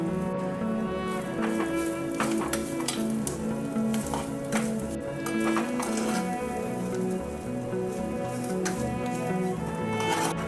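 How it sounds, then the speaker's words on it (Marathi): Coconut being dry-roasted in a pan with almond and cashew slivers and poppy seeds, sizzling steadily with soft scraping stirs and light clinks throughout. "खोबरं देखील यामध्ये थोडंसं भाजून घ्यायचं"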